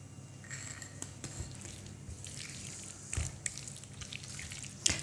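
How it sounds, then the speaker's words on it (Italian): A spoon clinks against a bowl while artichokes are stirred into a creamy filling, giving soft wet squelches with a few sharper scrapes and taps, fairly quiet and close, with no talking. "Adesso alla crema aggiungiamo i carciofi e mescoliamo tutto."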